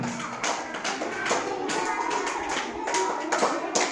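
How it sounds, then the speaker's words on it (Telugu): First-class schoolchildren in a government primary school classroom clap together in quick, uneven bursts during a fun game, a close and lively patter of small hands. "క్లాప్స్ కొట్టండి నిరంజన్కి."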